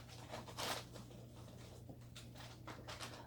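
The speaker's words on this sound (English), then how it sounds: "is walking all over the craft paper, so that's what that noise is" Lulu, a pet, walks across craft paper, producing soft, irregular crinkles and rustles at low volume over a steady background hum.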